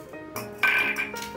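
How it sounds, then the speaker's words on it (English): An Indian clay pot being picked up and set down, giving a couple of brief hard knocks followed by a short ringing clink of ceramic, close and alone. "So take your clay pot,"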